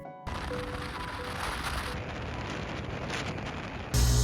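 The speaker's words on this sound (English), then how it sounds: "It's starting to rain" Steady rain hisses continuously during a night motorbike ride on the Mae Hong Son Loop in northern Thailand, with a louder rush of noise swelling in near the end.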